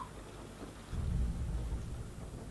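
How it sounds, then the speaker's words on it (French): A single loud, deep thunderclap rumbles in about a second into a steady wash of rain, swelling to a heavy low roar and then slowly fading back under the patter. "il y a eu un gros coup de tonnerre là."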